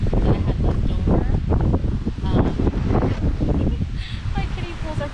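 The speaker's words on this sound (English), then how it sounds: "It's so windy out here." Strong wind buffeting a microphone outdoors in a backyard garden, a steady loud rumble with gusts throughout, while someone talks over it.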